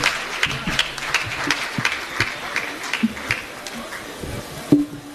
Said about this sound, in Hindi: एक बार तालियों से आप स्वागत करें भाई सुमित ओरछा का